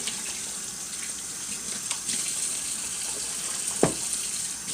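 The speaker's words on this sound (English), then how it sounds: "Got to wash my hands here." A kitchen tap runs steadily while hands are washed, a continuous close rush of water with a brief splash near the end, no talking.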